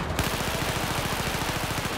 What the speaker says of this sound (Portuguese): Tem sniper me atirando.